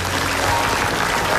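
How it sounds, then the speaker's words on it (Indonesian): Studio audience on an Indonesian comedy talk show bursts into dense, steady applause, loud and continuous throughout with no pauses. "Tepuk tangan dulu dong."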